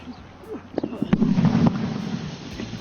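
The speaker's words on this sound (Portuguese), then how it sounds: "um dos jogadores lança a granada no poço e em seguida todos os participantes se deitam de bruços no chão, esperando a explosão" A grenade goes off in a pit during military training, a muffled blast that swells into a sustained rumble over about a second before fading, with some background voices.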